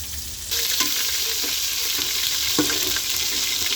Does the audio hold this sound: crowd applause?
no